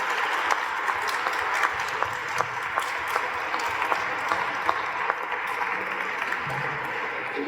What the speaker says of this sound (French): je pense qu'on peut applaudir toutes ces personnes pour les remercier sincèrement